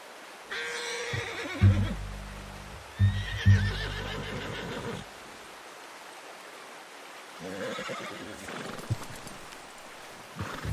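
A horse in Red Dead Redemption 2 whinnies loudly twice up close, followed by quieter hoof clip-clops and rustling in an outdoor hunting scene, with someone speaking in between.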